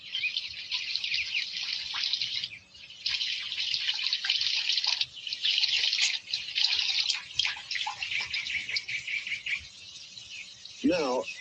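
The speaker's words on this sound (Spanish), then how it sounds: "el agua sale por los agujeritos como una ducha" Water streams out through small holes like a shower, a steady hissing patter that runs continuously with brief pauses and a final gurgle; a voice speaks faintly over it.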